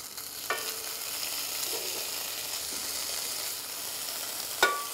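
Onions fry slowly in a pan with a steady, even sizzle throughout, close and moderately loud, broken by a couple of faint scrapes and one sharper clink near the end; no voices.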